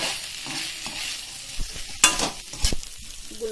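Eggs sizzling in a hot pan while being stirred for egg chili, a soft steady frying hiss with a few scraping and clinking stirs of a utensil, close and moderately loud, with no talking.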